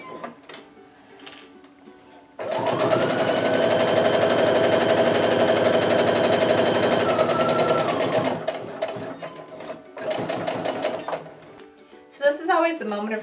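A sewing machine stitches a quilt block seam in one long, fast, steady run of rapid mechanical clatter, loud and close. Quiet handling sounds and a voice come before it and again after it stops.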